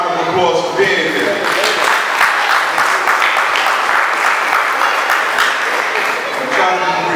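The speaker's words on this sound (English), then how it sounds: "give yourselves a round of applause for being here." Audience applause and cheering at a convention, loud and continuous throughout, with scattered shouts and voices mixed into the clapping.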